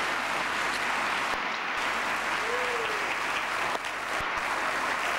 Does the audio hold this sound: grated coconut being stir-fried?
no